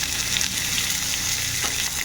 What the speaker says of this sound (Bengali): এই পেঁয়াজটাকে একটু ভালো করে লাল লাল করে ভেজে নেব